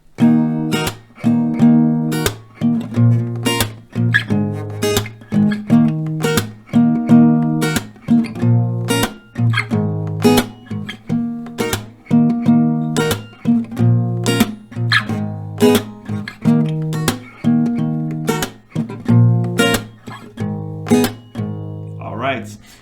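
Acoustic guitar strumming a repeating chord progression in a steady rhythm, clear and close, with no voices.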